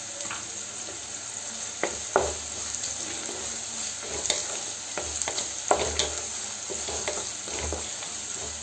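Turmeric, crushed coriander and spices stirred and fried in a pan with cauliflower, a constant sizzle under repeated scraping strokes and light knocks of a spoon against the pan at an irregular rhythm.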